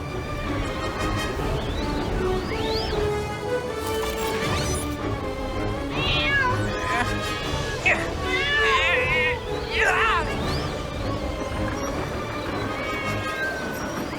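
A cartoon cat meows in distress, with several rising, wavering cries amid crashing, thumping action noises and overlapping animated voices.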